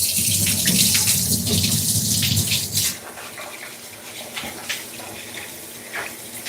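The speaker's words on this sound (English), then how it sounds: "make sure we give it a nice little wash as well" Rice being rinsed in a pot under a running kitchen tap, a loud steady gush of water for about three seconds, then quieter splashing and swishing as the grains are stirred.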